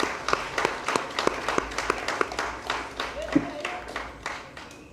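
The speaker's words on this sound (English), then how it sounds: "Let's give her a round of applause, please." An audience at a steel orchestra graduation claps in a quick, uneven patter of sharp individual hand claps, moderately close, with a brief voice rising partway through.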